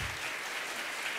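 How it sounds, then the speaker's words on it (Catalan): Audience applause at a children's and young adult literature celebration as authors are called up, a steady, even wash of many hands clapping with no gaps. "Gràcies, un fort aplaudiment."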